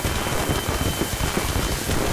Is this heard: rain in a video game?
yes